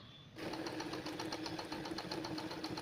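A zigzag sewing machine stitches embroidery, starting after a brief silence and then running with a steady, rapid, rhythmic mechanical whir and needle chatter, close up and alone.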